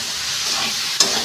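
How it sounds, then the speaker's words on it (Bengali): Cauliflower frying in oil in a pan, a close steady sizzle with one sharp metallic scrape or clink of a stirring spoon near the end. "ফুলকপিটা ভাজা হয়ে গেছে একটুখানি"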